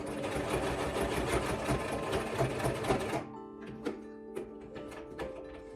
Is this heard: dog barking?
no